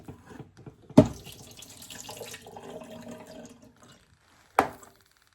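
Liquid from canned vegetables is poured off into a kitchen sink, a steady splashing trickle between two sharp clanks of the can against the basin.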